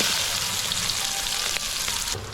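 Onions sizzle in hot oil in a pan after the mustard seeds have popped, a brief, steady, close frying hiss with a slight dip near the end and no speech.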